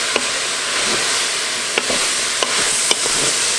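Mushrooms browning in a pan for a beef stew, a loud continuous hiss and sizzle with a few light utensil taps spaced across it.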